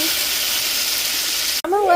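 Mushrooms land in a hot pan with browned shallots and garlic, giving a loud, steady hiss of frying that cuts off abruptly near the end, when a voice begins speaking.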